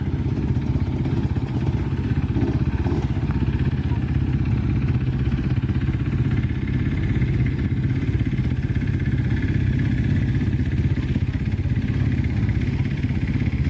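Motorcycles idling at an organised bike event in Bulgaria near Sunny Beach, a steady, dense mechanical rumble of several engines throughout, close and constant.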